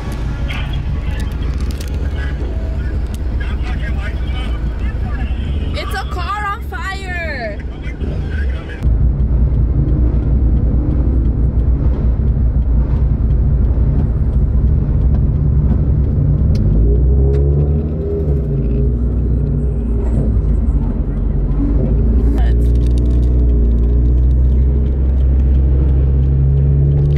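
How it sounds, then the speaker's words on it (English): Cars crawling in a birthday drive-by gridlock, a steady, loud engine rumble that continues throughout, with people talking over it. "It's a car."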